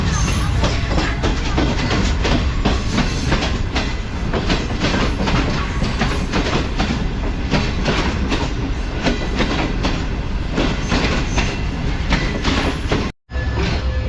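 Shalimar Express train pulling out of Nawabshah railway station, with loud continuous rumbling and rhythmic clickety-clack of wheels over rail joints close by from start to finish, then a sudden brief cut to silence near the end.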